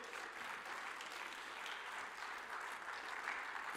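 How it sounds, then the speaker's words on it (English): Audience in a church gives a short burst of applause, a dense, even patter of many hands heard faintly at a distance, with no voices over it. "I never thought I'd get applause for sticking my butt out at our church"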